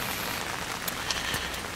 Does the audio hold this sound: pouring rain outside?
yes